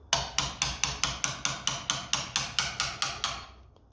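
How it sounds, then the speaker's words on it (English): A light hammer taps metal about a dozen times at a steady, even pace on a 1968 Triumph T100C fork leg, each strike bright and ringing, close by with no talking. "I've just literally tried giving it a tap of a light hammer, and it's starting to move."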